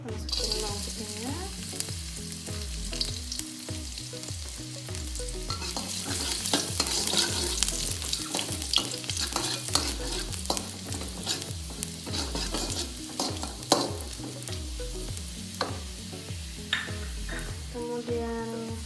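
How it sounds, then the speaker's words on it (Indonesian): Garlic sautéing in hot oil for tom yam soup, a continuous close sizzle broken by frequent clacks of a spatula stirring against the pan, no talk. "Pertama kita tumis dulu bawang putihnya. Kalau udah panas minyaknya kita masukin bawang putihnya."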